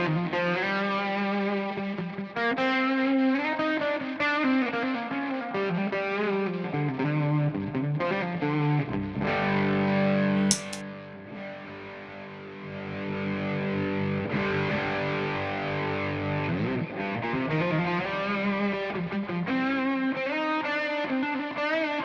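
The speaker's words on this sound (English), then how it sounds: "Now for even more separation, we can put on the delay." Electric guitar played through a stereo pedalboard with distortion and a ping pong delay, chords and sustained notes ringing out with echoing repeats bouncing across a wide, layered tone, loud and continuous with no talking.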